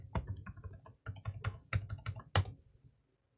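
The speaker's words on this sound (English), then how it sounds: "then I'll type in my password" Quick bursts of keystrokes on a computer keyboard as a password is entered, close and crisp, in short irregular clusters ending with a final firmer tap before silence.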